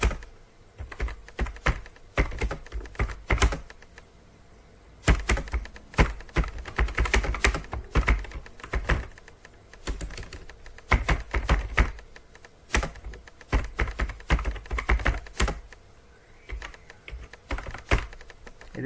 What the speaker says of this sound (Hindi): इधर मैं अपना एड्रेस टाइप करता हूँ